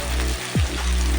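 Slit green chilies dropped into hot oil already holding chopped onion and tomato, giving a steady close sizzle and spatter throughout, with a brief sharp hiss as they hit the pan.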